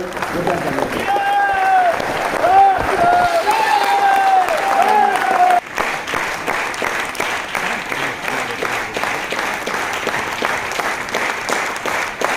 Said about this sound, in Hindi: मैं आप लोगों के जोरदार तालियों के बीच में बुलाने जा रहा हूँ दीपक मैत्री सर को